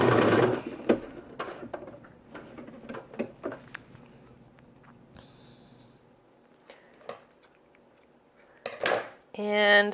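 Sewing machine stitching around fleece and wool mittens: short bursts of rapid mechanical stitching mixed with clicks and handling noises, fairly close, ending in a louder burst.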